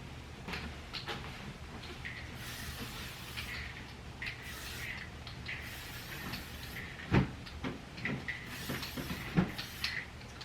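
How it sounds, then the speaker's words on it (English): Several bursts of Lysol aerosol disinfectant spray hiss in quick succession onto a bed, each a few seconds long, followed by some handling knocks and rustles nearby. "So let's spray the bed with Lysol."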